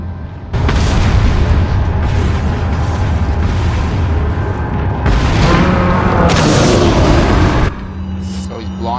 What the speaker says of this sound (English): flashbang grenades.